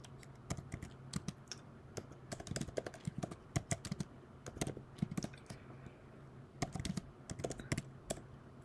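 A change directory command is typed on a computer keyboard, steady bursts of close clicking keystrokes with short pauses between groups, quiet and free of speech.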